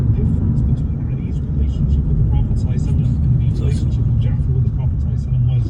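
A car cruising along a road, its steady low rumble of engine and tyre noise continuous and close from inside the cabin, while someone talks over it.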